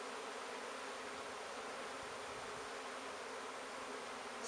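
Honeybees buzz continuously as a dense, faint swarm drone while being shut into their hive box, with a steady hum that does not let up.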